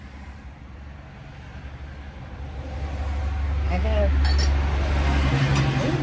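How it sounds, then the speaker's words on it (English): Steady low road traffic rumble from a nearby road outside a storage garage, continuous and growing slightly louder, with light clinking and a person talking over it. "And I'm going to apologize for the road noise."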